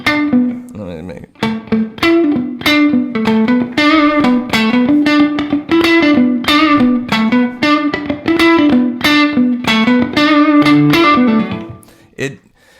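Electric guitar through a distortion pedal, a string of picked notes and chords played close and loud for about twelve seconds before cutting off near the end.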